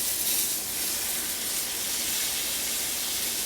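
A ribeye steak sizzling in a cast iron pan, giving off a constant, bright hiss that stays close and steady with no talking over it.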